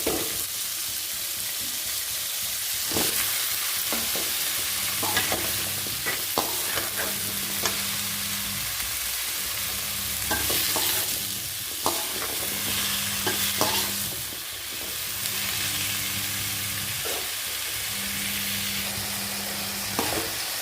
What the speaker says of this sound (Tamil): சொரக்காய் தக்காளி நல்லா வதக்கி விடணும்.